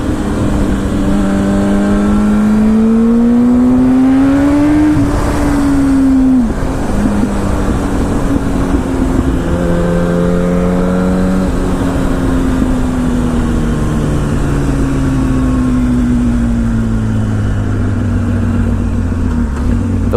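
A Yamaha R1 AMA pro racing motorcycle revs up through its gears on a test ride, its loud, close engine note rising and dropping with each shift amid heavy wind roar.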